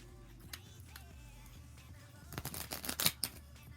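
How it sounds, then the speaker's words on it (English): A deck of playing cards being shuffled during a magic trick, a quiet flurry of close crisp riffling clicks in the second half after faint handling sounds. "I'm gonna put it in the deck, and then I'm just going to shuffle it real quick."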